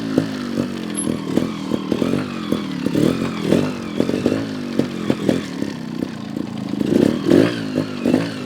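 A GasGas TXT 300 trials motorcycle picks its way through a backyard obstacle course. Its engine gives short, choppy throttle blips and revs in an uneven rhythm, with clattery mechanical noise between bursts.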